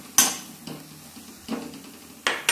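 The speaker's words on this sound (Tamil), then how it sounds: "ஆட் பண்ணிட்டு நல்லா ஒரு டைம் கிளறி" A spoon stirs cauliflower and pea kuruma in a cooking pan after water is added, giving a few sharp metallic scrapes and knocks against the pan, close and loud, with no speech.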